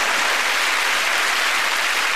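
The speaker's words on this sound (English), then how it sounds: "And this round of applause." A television studio audience applauds during a comedy quiz panel show, a steady, dense wash of many hands clapping at a constant level throughout the short moment, with no voices over it.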